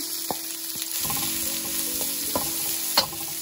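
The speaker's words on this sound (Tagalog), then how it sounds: "So, igisa na natin yung ating bawang. Isunod na natin ang ating onion." Garlic and then onion sautéing in hot oil for a sardine and cabbage curry, a continuous close sizzle broken by several sharp clinks and scrapes of a utensil stirring in the pan, no talking.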